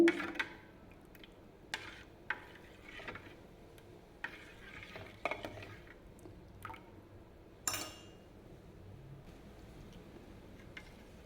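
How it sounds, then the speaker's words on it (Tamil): Aloe vera juice being stirred after salt has been added, giving soft scattered clinks and liquid swishes at an irregular pace, fairly quiet and close, with no talking. "உப்பு போட்டு நல்லா கலந்தாச்சுங்க"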